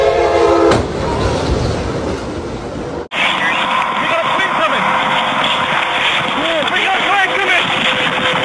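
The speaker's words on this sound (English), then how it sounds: "and the train coming." A train in the Crash Town game sounds its horn at the start, then a loud steady rumble of rolling rail cars continues after an abrupt cut, with a voice talking under it.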